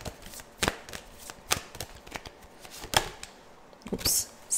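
A deck of Heal Yourself reading cards is shuffled close up in quick riffling bursts. Several crisp flutters and snaps are separated by short pauses, with no talking.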